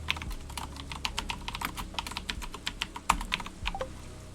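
A computer keyboard is typed on in quick, irregular bursts of crisp clicking keystrokes, close and clear with no talking, a few heavier key presses standing out among the rapid patter.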